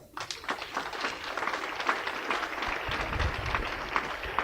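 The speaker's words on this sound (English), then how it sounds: "I think we deserve an applause" A live crowd claps at Accra Academy's 91st Speech and Prize Giving Day, a steady, dense wash of applause lasting the whole stretch at moderate loudness, with a few louder individual claps standing out.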